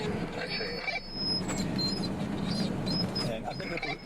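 A high, thin squeak keeps recurring inside a moving car over its steady low rumble, with a person talking throughout.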